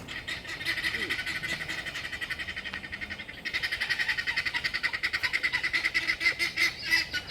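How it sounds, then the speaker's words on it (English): Geese or similar fowl honk repeatedly and loudly in a rhythmic series, with dense overlapping calls that grow stronger in the second half, heard outdoors alongside a speaking voice. "I hate those birds so much."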